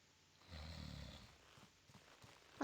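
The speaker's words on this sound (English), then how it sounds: "I don't snore like that." A character snores in the video game Baldur's Gate: Siege of Dragonspear, a single soft, rumbling inhaled snore followed by quieter breathing and a sharp sound at the end, fairly faint.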